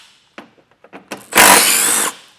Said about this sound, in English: I'm going to take these 2 10mm bolts out